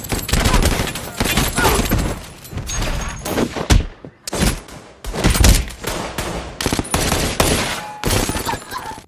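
Gunfire in a shootout from the 2012 action film Safe, loud bursts of rapid automatic shots and single cracks with heavy thuds, in dense volleys broken by short pauses.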